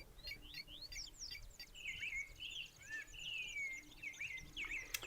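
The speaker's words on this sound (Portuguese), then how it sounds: "Lobisomem Souza, os pássaros é uma gravação de fundo." A background recording of birds chirping, many quick whistled calls and trilling tweets overlapping in a dense, fairly faint chorus over a soft low hum, with no voices.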